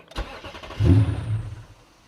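Lexus LS460 engine cranking a single time without catching, a brief click followed by a short low mechanical churn that fades out, close and alone.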